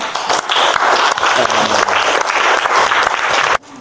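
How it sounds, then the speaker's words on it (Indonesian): A classroom of students applauds for a classmate named Ari, dense steady clapping close and loud for about three and a half seconds before cutting off abruptly. "Tepuk tangan dulu buat Ari"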